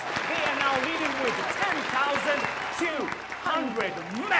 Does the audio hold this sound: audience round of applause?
yes